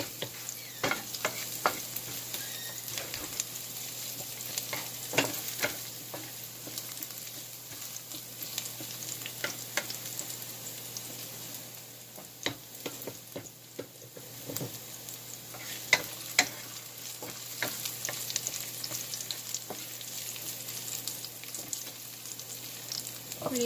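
Sautéing in a pan for creamy pineapple chicken, a steady soft sizzle with frequent stirring clicks and scrapes, fairly quiet and close, over a low constant hum.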